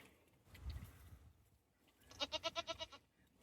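Goat on a homestead gives a quavering bleat in a rapid pulsed series of about seven beats, fairly close, preceded by a low thud and soft rustling.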